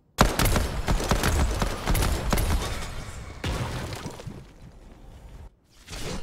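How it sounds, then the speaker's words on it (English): A rapid volley of Fortnite Creative gunshots fires at balls in a deathrun course. The bursts come in a dense, continuous rattle, then pause briefly before the shots pick up again at the end. "Now this one, you need to shoot all the balls in less than 4 seconds."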